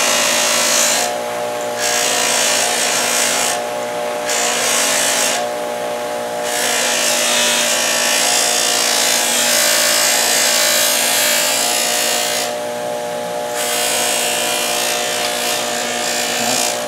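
A buffing wheel loaded with white compound spins steadily against a tool handle, giving a continuous bright whir with brief dips in pitch where pressure changes.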